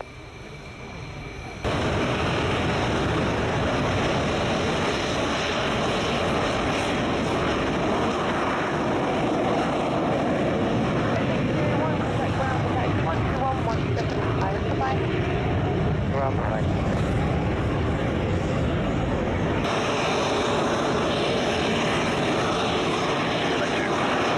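A C295 turboprop on short final approach, a loud steady propeller-engine drone that swells in after a quiet start and holds, with a voice talking over it.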